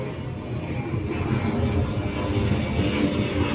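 An airplane passes overhead, its engine rumbling in a broad, rising roar that grows louder and holds near its peak. No one speaks.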